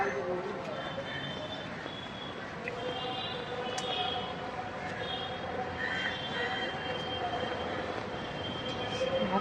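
A commuter train rumbles along in a steady, dense roar with faint metallic whines and rattles, heard from on board and lasting throughout.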